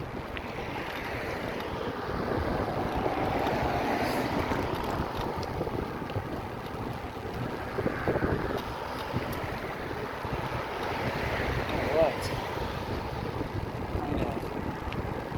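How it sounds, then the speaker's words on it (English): Waves break along the Gulf of Mexico shoreline at Sanibel Island, Florida, with wind buffeting the microphone; a steady rolling wash of surf swells and recedes in slow surges, with no voices heard. "I can see waves breaking out in the Gulf as if it's high tide"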